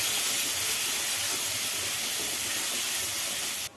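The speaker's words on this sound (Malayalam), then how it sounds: "ഗ്യാസ് ഫ്ലെയിം കുറച്ച് വെച്ച് വേവുന്നവരെ ഇങ്ങനെ ഇളക്കി കൊടുത്തുകൊണ്ടേയിരിക്കണം" Chopped banana cooking in ghee on a low gas flame while being stirred, heard as an even, close frying hiss that runs steadily and then cuts off abruptly near the end, with no voices.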